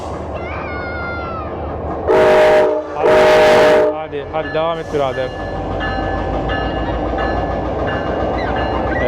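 Train passing near a crowd at an autumn festival in Clifton, Virginia, with two loud horn blasts followed by steady rolling rumble and wheel noise, and someone talking over it.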